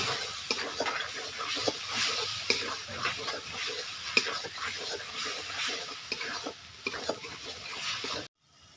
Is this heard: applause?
no